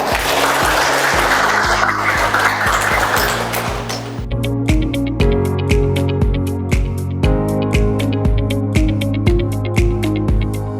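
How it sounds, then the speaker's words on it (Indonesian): A few seconds of group clapping over background music, then the applause stops and a rhythmic instrumental tune carries on alone. "Tepuk tangan untuk semua."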